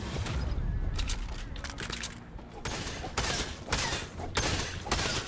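Gunfire in the video game Fortnite: repeated bursts of shots, loud and close, some rapid and some spaced, spread across the clip over steady game ambience.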